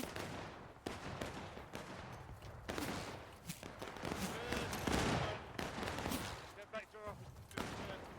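Musket volleys crackle in a Civil War–era multiplayer video game battle, with repeated bursts of gunfire near and far, dense and overlapping across the clip, while voices shout orders over the shooting.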